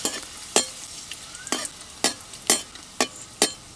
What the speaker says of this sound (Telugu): వెంటనే ఎండిమిరపకాయలు కూడా వేసి వేయించుకుని తీసేసుకుందాం